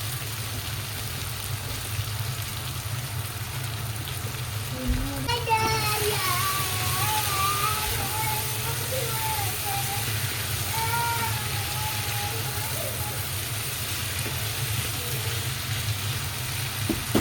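Chopped onions dropped into a hot pan and frying with a steady sizzle for an Indian-style chicken spaghetti, a continuous hiss alongside a low hum, with a voice and speech audible over it.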